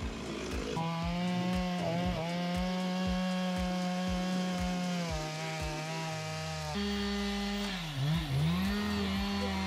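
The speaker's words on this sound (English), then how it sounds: "There is one chainsaw, and it's about a tenth of the size of the tree" A single chainsaw cuts through a large fallen tree blocking a road. The engine drones loud and steady with repeated bogging pulses as the chain bites, then revs and dips near the end.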